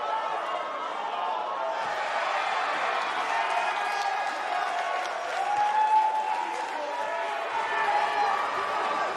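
A live arena crowd in the WWE 2K19 wrestling game roars and claps steadily throughout, a dense wash of cheering and applause under a faint commentary voice.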